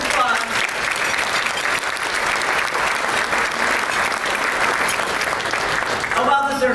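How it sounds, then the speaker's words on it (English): Loud, continuous audience applause for the Choose DuPage president and CEO at a State of the County event, dense clapping that holds steady before cutting off abruptly near the end. "Let's give him a round of applause."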